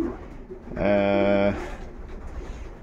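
A single pigeon in a loft gives one clear, resonant coo lasting under a second, close by, with soft background noise before and after.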